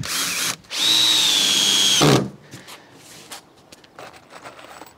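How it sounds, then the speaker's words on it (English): A power drill drives screws into wooden base boards for a new workshop, with one loud, sustained whirring burst up close followed by a clunk, then quieter shuffling and handling noises. "this is all dried off, so I can get the boards on start by getting it screwed down along this long edge"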